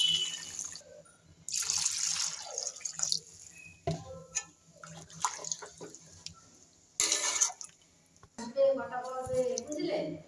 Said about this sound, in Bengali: আমি এবার ঝোলের জন্য জল দিয়ে দিচ্ছি।